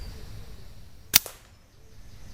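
A single close shot from an FX Dreamline .22 air rifle firing a JSB Hades pellet during squirrel control, one sharp crack with a quick trailing snap, against quiet outdoor ambience.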